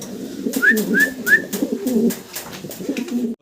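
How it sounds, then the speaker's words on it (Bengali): A pair of racer pigeons coo close by in a soft, repeated throaty rhythm, with several rolling calls following one another over a few seconds and no talk. "খুব সুন্দর এক জোড়া রেসার কবুতর দেখাচ্ছি এখন আপনাদেরকে।"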